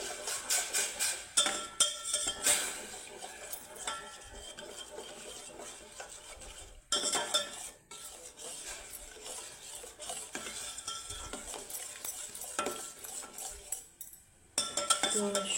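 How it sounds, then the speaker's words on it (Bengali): Semolina stirred into hot sugar syrup in a pan for a tricolour rava kesari cake, a spoon scraping and clinking against the metal in uneven bursts with soft sizzling, close and fairly loud, with brief pauses between strokes. "এখন আমি দিয়ে দিব সুজিটা দিয়ে এভাবে আমাদের নেড়ে নিতে হবে।"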